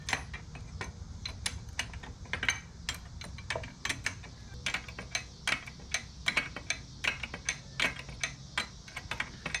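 Ratchet cranking a coilover spring compressor on an Audi SQ5 front suspension, a quick run of sharp close clicks in an uneven rhythm, faint and with no speech.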